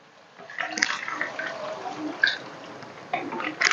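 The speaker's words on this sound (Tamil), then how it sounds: "அப்போ இது கூட வந்து நம்ம அந்த மிச்சம் இருக்குது இல்லைங்களா, அந்த பாலை ஊற்றிடலாம்" Milk poured into a pan of half-cooked noodles for a cafe-style white sauce, a soft liquid splashing and trickling close up that continues in uneven bursts without talk.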